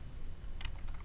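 Keys are tapped on a computer keyboard while script code is typed, a few faint clicks over a low steady background hum.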